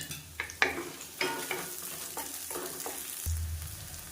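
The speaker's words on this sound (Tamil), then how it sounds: "இப்போ இது எல்லாத்தையும் நல்லா வதக்கி விட்டுக்கலாம் இப்போ நல்லா வதங்கட்டும்" Spices and about eight dried red chillies sautéing in a pan for a Tamil sesame chutney, with a soft sizzle under several brisk scraping clinks of stirring and a low thud near the end.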